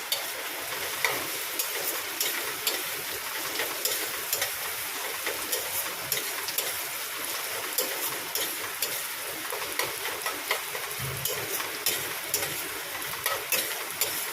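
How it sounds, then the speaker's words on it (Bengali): Spices frying in a pan, added to turn red-brown, give a steady broadband sizzle with small crackles and stirring clicks throughout, close and moderately loud, with no talking. "এই মশলাটা দেবো আগে লাল লাল করে ভাজা হোক"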